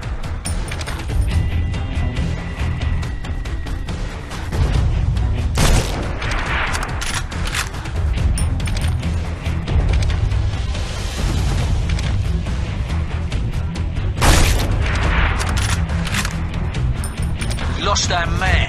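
Rapid bursts of gunfire and booming explosions from the mobile shooter game Sniper X fill the scene, loud and nearly continuous with sharp cracks and heavier blasts layered over game music.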